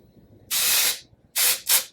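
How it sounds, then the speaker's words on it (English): Three bursts of Jet Set powder spray hiss from the can onto a face: one long close spray, then two shorter quick ones in succession. "It's just like you're spraying air on your face."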